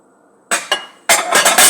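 A small Pyrex glass dish is lifted out and handled, giving two brief clinks followed by a cluster of louder glassy knocks and rattles, close by with no talking.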